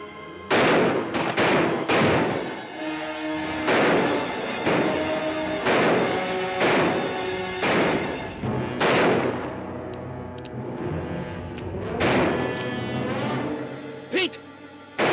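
Gunfire in a 1955 western film: a rapid sequence of loud, reverberant rifle and pistol shots with irregular spacing, some in quick clusters and others isolated, ringing out over the soundtrack.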